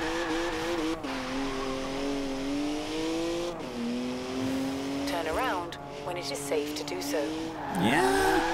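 A sports car in the video game Forza Horizon 4 holds a droning engine note that shifts in pitch, then revs harder with a wavering squeal as it pulls away, loud and close, while someone talks over it.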